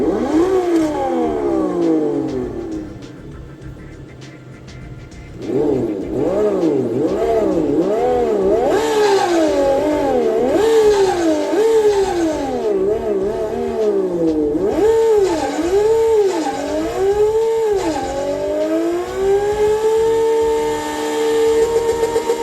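A Lamborghini 24-volt ride-on toy car fitted with an ESS Dual Plus Sense Innovations sound module plays an extreme synthetic exhaust note, revving up and down repeatedly in swooping surges and settling into a steady idle, loud and close with no talking.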